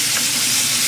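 Butter sizzles loudly in a hot frying pan with a steak and garlic, a dense, steady crackling hiss filling the short moment with no talk over it.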